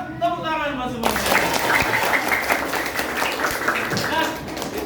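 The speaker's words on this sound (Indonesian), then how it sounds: "tepuk tangan mas semuanya" A class of students bursts into lively applause after a brief spoken greeting, the clapping dense and sustained for several seconds before tapering slightly.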